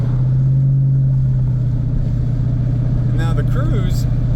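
A 2010 Dodge Challenger engine in a driving video game holds a steady loud drone while the car runs in fourth gear, with a few brief higher tones near the end.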